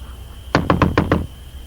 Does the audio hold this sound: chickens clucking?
no